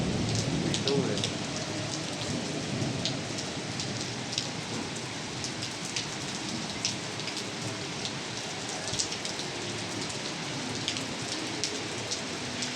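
Steady rain falls throughout during a downpour in Sialkot, a dense even hiss with scattered sharp drops striking surfaces, close and continuous with no pauses.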